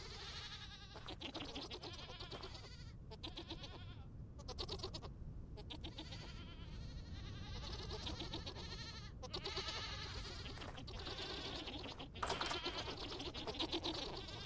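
Repeated goat bleats from a herd in the Vintage Story survival game, overlapping cries near and far that keep up steadily throughout with brief gaps, no talking.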